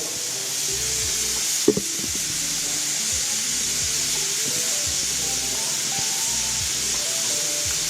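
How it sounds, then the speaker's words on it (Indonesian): Beef stew (semur daging) boiling in a pot gives a steady, close bubbling hiss with soft low pops throughout and one brief knock early on, with no talking. "Kalau udah mendidih gini, kita kasihin aja apinya."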